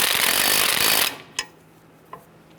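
A power tool bottoms out a lug nut against the rear brake rotor of a 1995-2001 Ford Explorer, making a loud, sustained burst for about a second, followed by two short, sharp metallic clicks in near silence.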